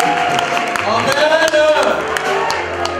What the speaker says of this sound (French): On applaudit très fort notre Dieu